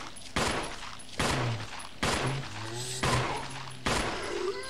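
Five loud handgun shots fire one by one at roughly even intervals during zombie combat in the 2013 version of Resident Evil 1, each sharp crack ringing out over a steady game background with occasional low moans.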